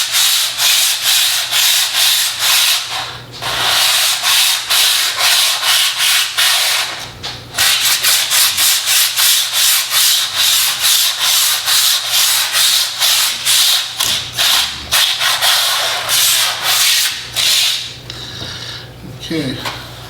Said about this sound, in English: We prime it, do 100 grit sandpaper, 250 grit,